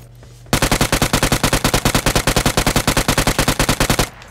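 Automatic gunfire in the video game PUBG Mobile: one loud, sustained burst of about forty rapid, evenly spaced shots lasting roughly three and a half seconds, then an abrupt stop.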